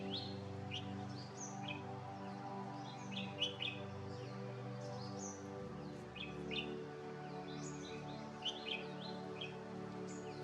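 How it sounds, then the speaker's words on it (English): Bird calls from a yellow-crowned woodpecker in Cauvery wildlife sanctuary forest: repeated short, sharp chirps scattered across the stretch, faint and moderately distant over a steady low background hum. "This is a yellow-crowned woodpecker, which is also pretty common in this place."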